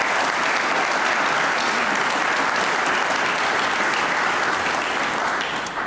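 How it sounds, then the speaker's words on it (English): A large audience applauds outgoing commission chairman Andrew after his seven years of service, a dense, steady wash of clapping that stays loud for the whole stretch and tapers only slightly at the end. "Please give Andrew a round of applause."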